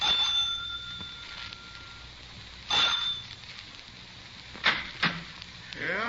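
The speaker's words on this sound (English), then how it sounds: "I rang the front doorbell." A front doorbell at a boarding house rings in a 1950s police radio drama, a thin high chime followed by a few short sharp rings spaced apart in a quiet room.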